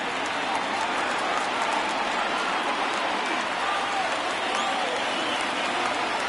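Stadium crowd at an NLCS Game 7 between the Atlanta Braves and San Diego Padres roars steadily on a full 3-2 count, a dense, sustained wash of cheering and clapping with no break.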